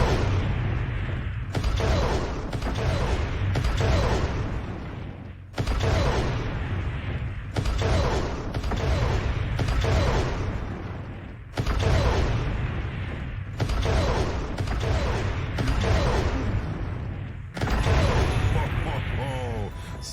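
SRM missile volleys fire in MechWarrior Online from a light mech carrying two SRM2 and two SRM4 launchers, as a run of loud, booming rushes in bursts of several seconds, separated by brief gaps, close and heavy.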